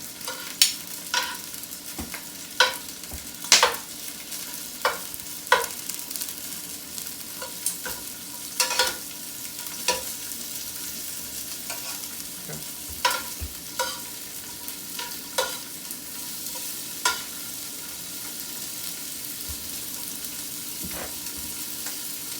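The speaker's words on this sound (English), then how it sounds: "Now we're going to flip them over in the order which they went into our pan here." Shrimp fry in a pan with a steady sizzle, and sharp scraping taps sound irregularly as they are turned over one by one.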